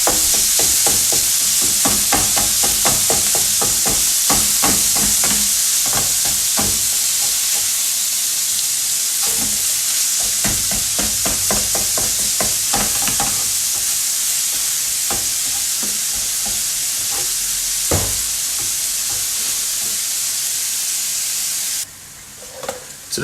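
Minced beef sizzles loudly in a pan as it is broken up and stirred, with rapid clacking spatula strikes over a dense, constant hiss that thins out near the end.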